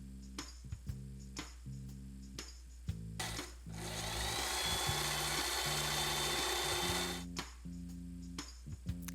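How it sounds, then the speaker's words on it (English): A sewing machine stitches metallic rickrack down the middle of a ribbon for a 14-inch doll's skirt. Soft tonal notes come first, then a few seconds of quiet, even machine whirring, and the tones return afterward. "I sewed the rickrack down the ribbon's middle."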